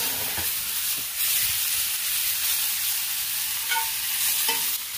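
Oil and pre-grilled aromatics hit a cast iron pan at around 500 degrees, producing a steady, close, broadband sizzle with a few faint spoon knocks, no voices.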